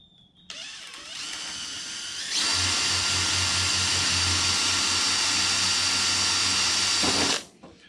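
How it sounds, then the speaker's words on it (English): A power drill with a regular bit bores through a clear polycarbonate sheet during an RV-4 spar crack repair, a steady high whine that starts, then deepens into a louder grinding load for several seconds before cutting off abruptly. "we can just drill with a regular drill bit"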